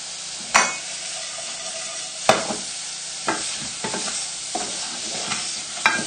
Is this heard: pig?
no